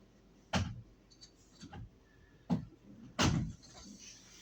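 Several sharp wooden knocks and thuds, like a door being shut and latched, spaced irregularly with quiet between them.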